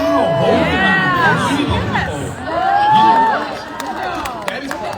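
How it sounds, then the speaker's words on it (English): A convention crowd at a fan expo panel in Portland reacts with a burst of loud, mixed shouting and chatter. Overlapping voices swell twice over a few seconds, close and dense. "you hear the crowd, they're like, no!"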